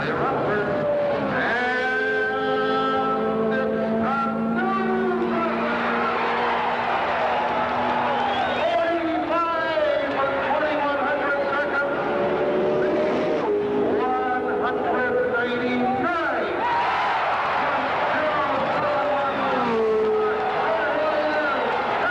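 An Indianapolis race car on a qualifying run, driven by Johnny Rutherford, its engine howling loudly through repeated rising and falling gear changes as it laps, with an announcer talking over it.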